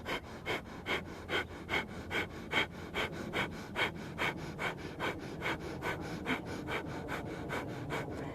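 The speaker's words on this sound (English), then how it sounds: "you could close your mouth and you transfer that breath into your nasal passages" Rhythmic nasal breathing in a breathing-technique demonstration, about twenty quick, sharp breaths pushed through the nose in a steady even pulse, close and fairly loud with no talking.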